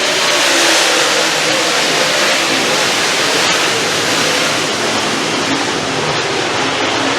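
Race cars roll around a speedway at a winter finale race, their engines a continuous loud broadband roar with steady droning throughout.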